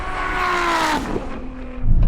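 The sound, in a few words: Ferrari SF90 and Nissan GTR accelerating in a drag race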